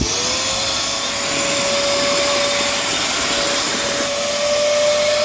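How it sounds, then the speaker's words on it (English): A pond vacuum cleaning a garden pond in winter runs steadily and loudly throughout, a constant whining motor roar with a rising hum, close by and with no talk. "if you're using an hoover on your pond, you got a little valve on your pipe there"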